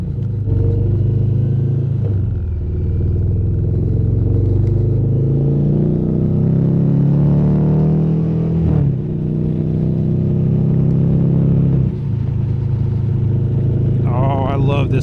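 Stock exhaust on a 2023 Indian motorcycle rumbles steadily and loud at close range, with throttle blips rising and falling and a short dip around midway, while speech runs over it.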